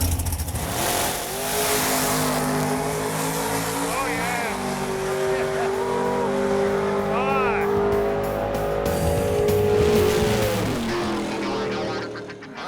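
A 2006 Ford GT accelerates hard down a drag strip, its engine note climbing loudly and steadily for most of the run, with a crowd and an announcer talking over it throughout.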